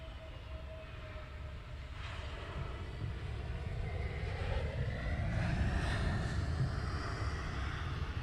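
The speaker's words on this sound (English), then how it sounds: "Around to the EasyJet, we're just departing now." An EasyJet airliner departs Luton Airport in fog, its engine roar a steady broadband rumble that swells gradually and holds loud throughout, with no voices.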